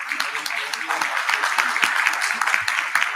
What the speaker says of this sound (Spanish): Un fuerte aplauso, por favor, para nuestro distinguido panel.